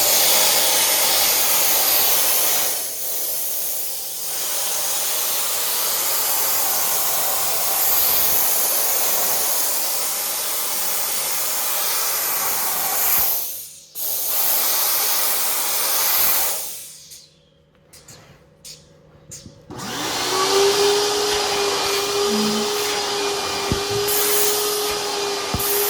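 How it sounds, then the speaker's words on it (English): Dupray Carmen Super Inox steam extractor letting out a steady, loud broadband hiss of gushing steam, broken by a few short pauses and clicks, then resuming with a faint tonal whine. "you can see the amount of steam that's gushing out of it"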